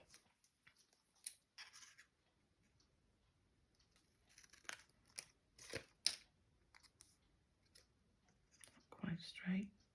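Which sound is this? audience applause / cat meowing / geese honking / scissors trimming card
scissors trimming card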